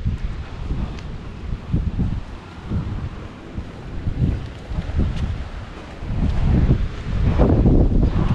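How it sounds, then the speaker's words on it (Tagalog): Strong gusts of wind buffet the microphone while walking outdoors in the Newcastle area, a loud, rumbling roar that surges and eases, swelling strongest toward the end, with rustling in the background. "Malakas ang hangin,"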